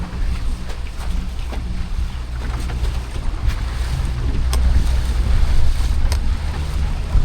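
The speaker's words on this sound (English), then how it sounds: "These 4-stroke engines are lovely and quiet" A four-stroke outboard engine on a beach boat out at sea, a steady low hum under wind noise and lapping waves, fairly close and continuous with no talk.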